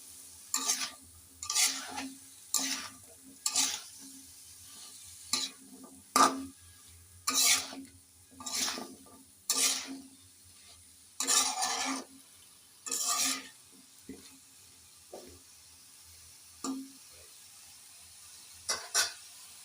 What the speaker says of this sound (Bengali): আমার কেটে রাখা কচুর লতিগুলো দিয়ে আমি এটাকে ভালো করে মশলার সঙ্গে নাড়াচাড়া করে মিশিয়ে নেবো